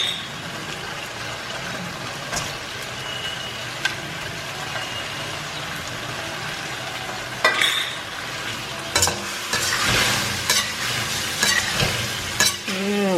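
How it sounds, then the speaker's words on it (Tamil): Cauliflower tossed and stirred through a sizzling honey garlic glaze in a hot pan, steady frying crackle with scraping stir strokes and sharper bursts in the second half. "ஸோ இந்த டைமில் காலிஃப்ளவர் போட்டுடலாம்."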